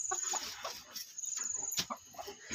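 A hen just set on a clutch of 21 eggs in a new coop makes soft, broken clucks and murmurs, fairly close but quiet, with a sharp high squeak near the middle.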